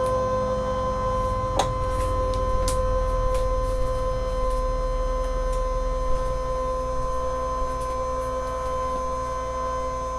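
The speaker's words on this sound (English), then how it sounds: "I'm going to scan it to the machine." A Brother Scan N Cut machine scanning a handwritten sheet of paper, a steady electrical hum and whine running throughout with a few faint clicks, no speech.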